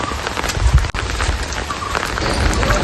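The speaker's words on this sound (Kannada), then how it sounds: "ಈಗ ಸಂಜೆ ಜೋರು ಮಳೆ ಬರ್ತಾ ಇದೆ." Heavy evening rain pours down steadily near a home courtyard used for raising paddy seedlings. The close, loud, continuous wash has a brief dip partway through.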